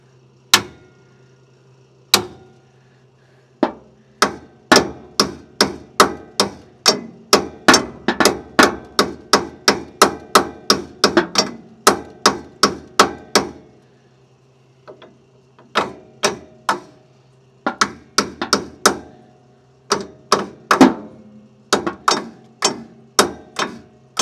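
Sharp metal hammer blows strike a fused brake hose clip on a Jeep CJ5, coming in quick rhythmic bursts of many hits with short pauses, loud and close with no talk.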